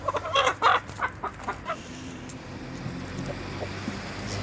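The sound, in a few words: rooster clucking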